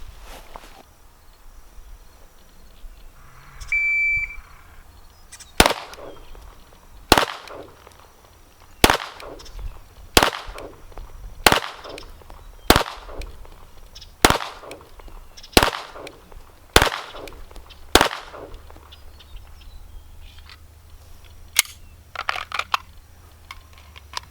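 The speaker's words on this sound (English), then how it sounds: "I did 10 shots in 14 seconds" Ten sharp gunshots from a competition shooting drill, fired one after another at a steady, even pace about one and a half seconds apart, crisp and fairly close against a quiet outdoor background.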